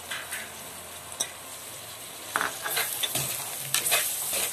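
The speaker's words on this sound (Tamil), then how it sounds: "தக்காளியும் நல்லா வதங்கட்டும்" Tomatoes and onions sauté in a pan for crab curry, with a constant soft sizzle broken by sharper bursts of frying and scraping stirs.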